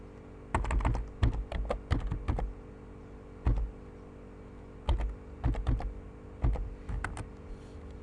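Bursts of keystrokes on a computer keyboard as a password is typed to log in to a Docker Hub account, several quick clusters of clicks separated by short pauses, close and clear with no talking.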